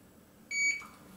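A single short electronic beep from a held link button on an RC receiver, clear and close, sounds once over a quiet background.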